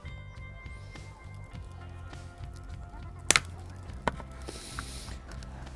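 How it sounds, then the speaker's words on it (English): Snips into a maple bonsai root come as a few sharp clicks near the middle and one later, close up over a low background hum, with no talk. "this root right here is also quite straight and a little bit long, so I'm going to reduce that in length."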